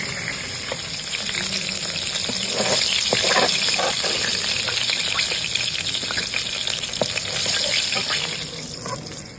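Chicken pieces fry in hot oil for biryani, a steady dense sizzle filling the clip with scattered crackles and spatters, fairly loud and close throughout, with no talking.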